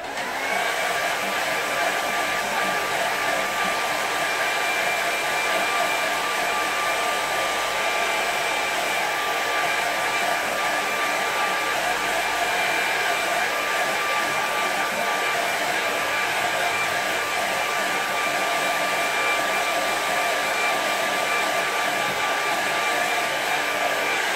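A hair dryer runs continuously at a steady high whine while drying a watercolour landscape painting, loud and close with no talk over it.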